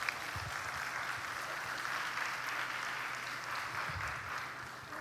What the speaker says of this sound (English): let us give a very big applause to all of us.